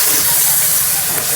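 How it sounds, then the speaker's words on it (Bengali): Water poured into a hot pan for a village-style mustard fish curry bursts into a loud, close, steamy hiss that fills the brief moment. "এবার দিয়ে দেবো জল"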